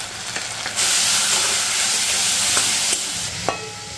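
Chicken curry spices frying in a pan, with cumin and coriander, give a loud, steady sizzle and hiss that flares up after a moment. Faint stirring clicks and scrapes come through the frying, and nobody speaks.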